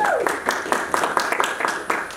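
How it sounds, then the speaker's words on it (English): A small crowd claps steadily, uneven individual claps blending into brief applause. "Give them a round of applause"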